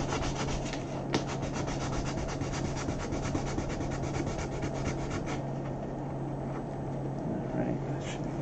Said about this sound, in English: I need to get sandpaper and just work this down over here real quick.